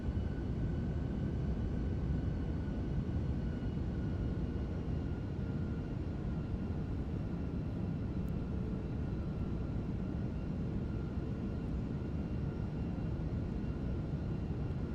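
Airbus A340 engines in MSFS 2024 give a continuous, even roar, a constant broadband drone held throughout with no voices.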